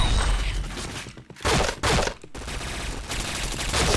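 Loud, dense gunfire in a shooting video game, with rapid bursts and fusillades that run almost without pause and break off in two short gaps.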